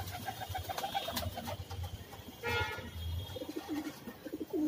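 Pigeons coo in soft, repeated low murmurs close by, with a busy background of rustling and other bird noises layered over them, in a pigeon loft.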